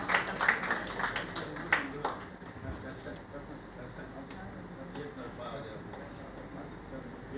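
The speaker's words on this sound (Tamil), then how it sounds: "கரகோஷங்கள் மூலமாக தங்களுடைய வாழ்த்துக்களை தெரிவிக்கலாம்." At a film pooja launch ceremony, a scattered round of applause sounds for the first two seconds, then fades into a quiet room hum with faint background noise.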